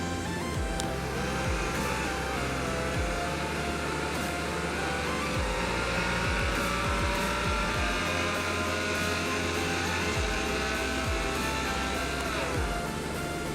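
A Beam Hybrid car in a video game drives and accelerates, its engine droning steadily and loudly throughout, with shifting tonal whine layered over a dense rumble and no voices.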